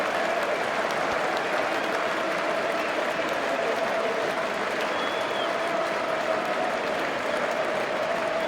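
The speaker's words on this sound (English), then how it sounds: "Standing ovation." A cricket crowd at Lord's gives a standing ovation to Anderson after his 500th Test wicket against the West Indies, loud continuous applause with cheering, steady throughout.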